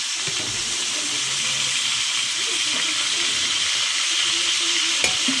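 Oil sizzling steadily in a frying pan, a constant hiss at moderate loudness across the whole stretch with a faint low hum beneath and one small clink near the end.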